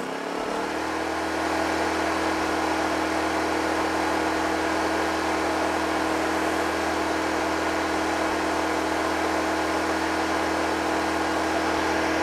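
A Champion 2500-watt dual fuel portable generator running at full RPM with eco mode off, giving a loud, steady, unbroken engine drone with no variation, heard close up and alone.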